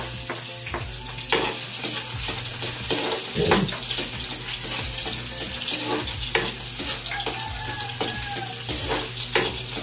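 Onions frying in a pan give a steady sizzle, broken by occasional clanks and stirring scrapes. No one speaks.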